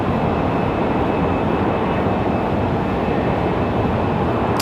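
A JetBlue airliner in New York Jets livery at Raleigh-Durham airport gives a steady, loud, broadband engine roar that holds unchanged throughout, with no voices.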